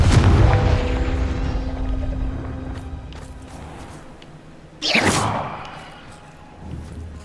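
A Confringo fire spell from the Hogwarts Legacy video game detonates with a heavy booming blast, its rumble decaying over several seconds before a second sharp explosive burst erupts and fades, loud with no talking.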